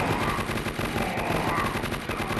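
Rapid automatic gunfire in the zombie-wave mode of the mobile shooter Crossfire: Legends, a dense, continuous, loud burst of shots with no pauses.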